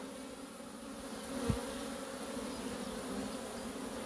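Honeybees carrying pollen fly at a hive entrance, their steady buzzing drone filling the scene with no voices.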